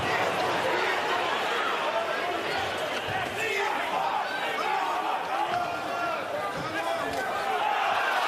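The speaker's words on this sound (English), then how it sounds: "And now the crowd chanting support for Usyk as Dubois backing up." A packed boxing arena crowd roars and chants in support of Usyk during his heavyweight bout with Dubois, a loud sustained wall of voices with rhythmic chanting throughout.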